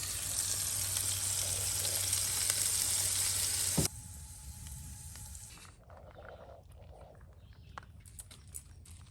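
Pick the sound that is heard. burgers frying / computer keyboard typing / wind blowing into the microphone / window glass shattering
burgers frying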